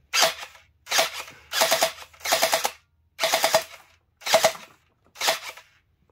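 An MP17 gel blaster pistol fires at targets in bursts of rapid snapping shots, seven short volleys separated by brief pauses, close and fairly loud with no talking.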